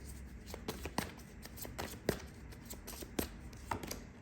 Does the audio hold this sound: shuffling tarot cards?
yes